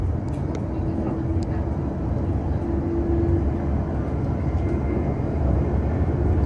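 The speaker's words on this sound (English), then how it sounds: "so the train's now thrashing out of Wolverhampton as it's now on the way towards Coseley station" A West Midlands train accelerating hard out of Wolverhampton toward Coseley, with steady low engine and rail rumble filling the cabin and a faint humming tone riding over it, loud and continuous.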